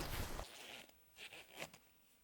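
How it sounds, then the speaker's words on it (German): The large, smooth-running zipper of a Carinthia sleeping bag is pulled open in a few quick, close rasping strokes, with rustling fabric and a quieter pause between pulls. "der Carinthia Reißverschluss ist extrem groß und leichtgängig"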